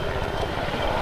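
A helicopter flies over a bridge near a riverside market during a fiesta in Hagonoy, a loud, steady, throbbing engine and rotor roar that fills a single second with no voices.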